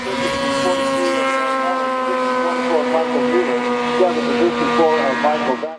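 Formula 5 and Formula Vee race cars at the SCCA June Sprints, with several engines screaming together at high revs in a sustained, loud drone as the cars run close together for position.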